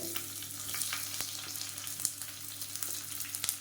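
Chopped shallots and green chillies sauté in a pan, giving a steady, close sizzle. Occasional light stirring clicks punctuate the frying.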